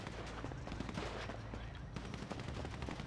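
Shots crackle during a police raid on a street party, dense bursts of rapid gunfire sounding somewhat distant and echoing over continuous crowd and street noise.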